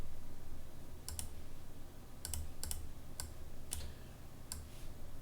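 Numbers being typed into an Excel spreadsheet on a computer keyboard, with a handful of short, separated bursts of crisp key clicks close by over a quiet room hiss.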